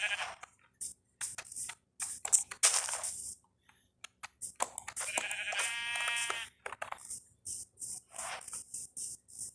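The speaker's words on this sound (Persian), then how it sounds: "آها گوسفند" Sheep bleating in Minecraft on mobile, a game-style bleat standing out amid clicky block-breaking and footstep sounds, with short bursts of gameplay effects scattered throughout and no talking.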